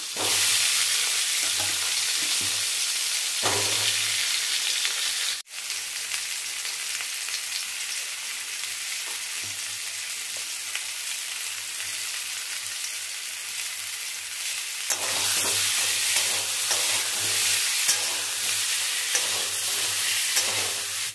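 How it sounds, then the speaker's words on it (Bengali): Potatoes fry in a little oil in a kadai, a loud, steady close sizzle that runs unbroken throughout, with one sharp clatter partway and no talking. "ওই কড়াতেই আগে আলুটা ভেজে নেব যেটুকু তেল আছে"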